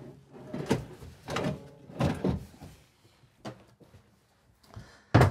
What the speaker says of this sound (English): we also have four more pull-out drawers here